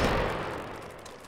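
A musket volley from infantry regiment reenactors at an outdoor historical event fades away, a loud broad boom at the start rolling off into a smoothly decaying echo.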